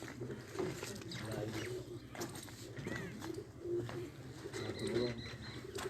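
A pet pigeon coos in short soft bursts close by, mixed with faint rustling and a low murmur of background voices.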